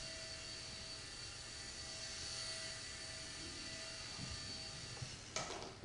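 A small remote-controlled helicopter flies indoors with a faint steady whining buzz of its rotor and motor throughout, ending in a short clatter.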